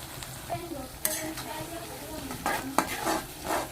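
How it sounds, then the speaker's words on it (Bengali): Onion, garlic paste and ginger sautéing in a pan for a chicken and turnip curry, steady sizzle overlaid by repeated scraping strokes of a spatula and occasional metallic knocks against the pan, close and clear with no talk. "পেঁয়াজ ভাজার সাথে আমার আদা রসুনগুলো সুন্দর করে কষানো হয়ে যাচ্ছে"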